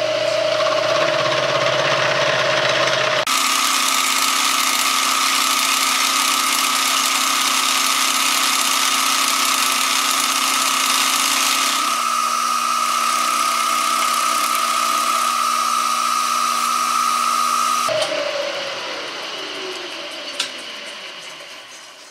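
A milling machine taking a conventional milling cut on a workpiece, a steady loud mechanical drone with strong tonal hum that shifts pitch partway through, then winds down near the end.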